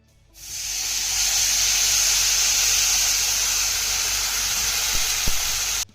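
Water poured into a hot tempering of chana dal for a steamed dish, giving a loud, steady hiss and sizzle of steam that rises quickly and holds for about five seconds, with a faint clink near the end.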